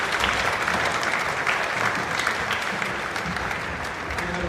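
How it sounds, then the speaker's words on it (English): Steady, dense applause from an audience at a school spring concert, honoring an elementary senior band; continuous clapping at even loudness with no voices standing out. "One last round of applause for our senior band."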